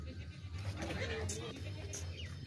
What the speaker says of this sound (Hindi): ये बहुत चालाक होशियार बकरा है